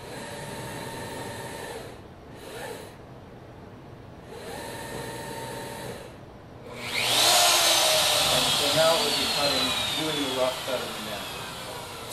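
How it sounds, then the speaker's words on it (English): A CNC router begins cutting a guitar neck from wood in a luthier's shop, switching on after some quieter machine hum and faint noises into a loud, sustained whine with shifting tones as the bit works through the wood. "the router will start automatically"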